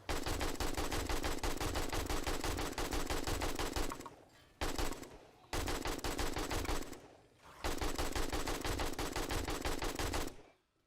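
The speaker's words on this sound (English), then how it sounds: "Let's shoot some zombies." Rapid automatic gunfire cutting down zombies in 7 Days to Die, long sustained bursts of machine-gun fire broken by a few short pauses, loud and close with no talking.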